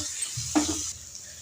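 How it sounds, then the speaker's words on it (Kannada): A spoon makes a brief stirring scrape as chilli powder and turmeric are mixed into frying stuffing for an egg pizza, over a soft, steady sizzle. "ಇವಿಷ್ಟು ಹಾಕಿ ಚೆನ್ನಾಗಿ ಮಿಕ್ಸ್ ಮಾಡೋಣ."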